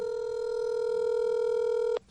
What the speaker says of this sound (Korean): 지금 제가 전화 연결을 해보겠습니다